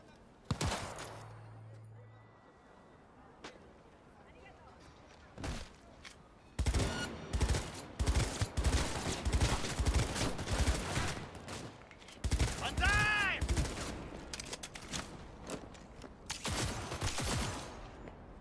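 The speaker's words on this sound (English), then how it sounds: "Are you really shooting me too?" Gunfire in the game Cyberpunk 2077: after a quiet stretch, rapid bursts of shots come in dense volleys, loud and close, with voices talking between them.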